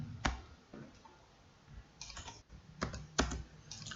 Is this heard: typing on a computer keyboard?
yes